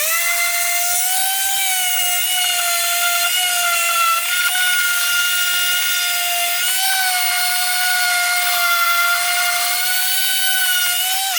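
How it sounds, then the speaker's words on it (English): A power sander works over a rust repair on a car body, giving a steady, close, high-pitched whine with a slight wavering pitch that persists unbroken throughout. "I'm going to work on a little bit over here with my sander."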